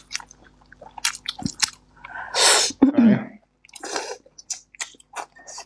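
Butterflied prawns peeled by hand are chewed up close, with wet crunchy bites and squishy smacks in irregular bursts, broken by brief quiet gaps and a short loud breathy burst.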